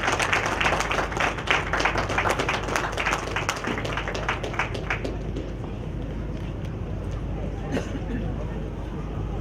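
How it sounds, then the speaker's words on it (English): Crowd applause at a Fiji Day 2012 award presentation in Sydney, dense clapping for about five seconds that then fades into a murmur of crowd chatter and voices, with a couple of isolated claps near the end. "Let's give her a round of applause."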